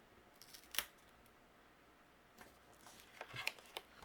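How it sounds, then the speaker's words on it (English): Scissors trimming excess cardstock paper while assembling a handmade card, heard as a few quiet, sharp snips spaced out over a few seconds in an otherwise near-silent room. "Trim away the excess"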